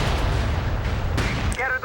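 F90 rifle sniping shots in the battlefield shooter MAG, a dense wash of distant gunfire and rumble with one sharp crack near the middle, all fairly loud and continuous.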